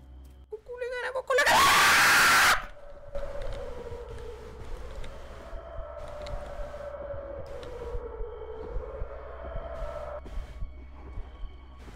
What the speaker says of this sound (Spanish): Me acabo de gastarme la voz con el grito.